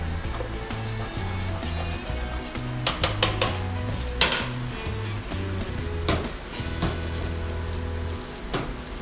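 A whisk scrapes around the corners of a pan while a sauce is made, producing continuous rapid metallic scraping and clinking, close and fairly loud over a steady low kitchen hum.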